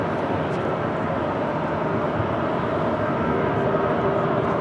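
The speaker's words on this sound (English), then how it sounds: "we're hearing planes take off on the north side." Jet planes take off at LAX airport, a distant, steady broadband roar that holds evenly throughout with no break.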